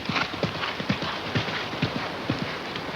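Racehorse hooves clip-clopping in a stable at Chantilly, an even series of close, crisp hoof strikes at a walking pace over a constant low background hum.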